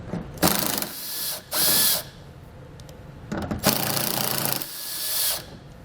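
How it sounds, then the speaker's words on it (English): A ratchet with a 10mm socket loosens fascia bolts on a 2017 Mercedes-Benz GLE, giving bursts of fast clicking up close separated by short quiet gaps. "We're going to remove those with a 10mm socket."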